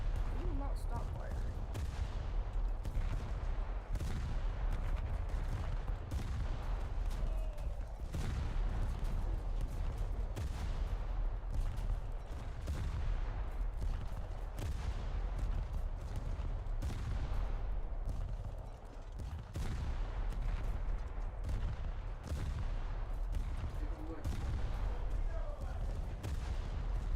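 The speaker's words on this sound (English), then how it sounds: "We will not stop firing." Naval ships in a video game keep up a continuous fusillade, dense overlapping gunshots and booming artillery rounds firing steadily and loudly throughout, with voices talking under the barrage.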